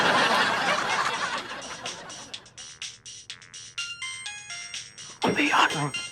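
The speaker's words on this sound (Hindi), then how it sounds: "तिवारी भैया को फोन बज रहा है" A phone ringtone chirps in repeated bursts, loud and close, with laughter and noisy chatter around it.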